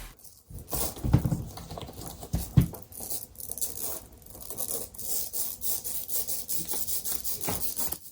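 Close, scratchy rubbing of nylon ripstop material on a sneaker upper, with a couple of sharper scuffs early on, then a continuous rhythmic swishing.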